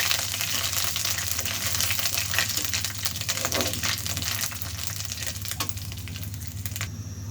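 Whole cumin seeds, crushed ginger, bay leaves and dried red chilies crackle and sizzle in hot oil as a tempering for dal, a steady bright hiss with scattered pops, close and continuous.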